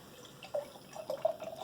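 Fremont's The Rusty Nail, a dark bourbon barrel-aged beer from 2020, is poured into a glass, making a faint, close liquid trickle with soft splashy drips that grow slightly louder toward the end.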